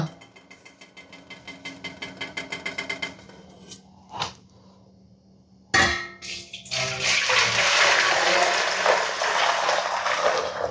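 Water being poured into a vessel after boiling on a gas stove, heard as a loud, steady splashing rush that lasts several seconds after some earlier clattering and knocks.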